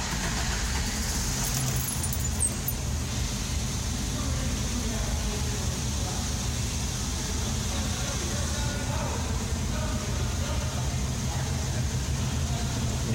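A 1989 Isuzu Trooper RS engine idles steadily just after a hot restart, a constant low rumble with a hiss above it running the whole time, close by and fairly loud, with no talk.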